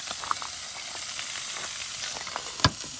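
Sausages, pudding and very large burgers sizzle outdoors beside an Irish lake, a steady close frying hiss with a few small pops and one sharper crackle near the end.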